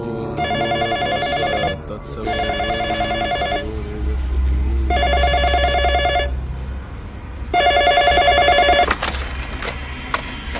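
A telephone bell rings in four long bursts separated by short pauses, loud and close, with a low rumbling hum underneath.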